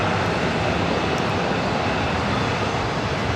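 Steady loud jet engine roar from an Airbus A321 airliner at LAX airport, a continuous broadband rumble and hiss holding constant with no talk.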